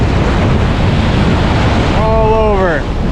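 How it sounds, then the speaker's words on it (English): Steady wind and crashing surf roar loudly on a cold, rainy beach during a fall striped bass run, with a voice-like harmonic call rising briefly near the end. "Windy, rainy, lenses covered in water."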